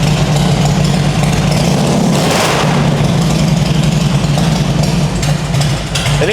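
Carbureted Harley-Davidson motorcycle engine running on choke after starting, a loud, steady low rumbling idle close by that continues throughout with little change.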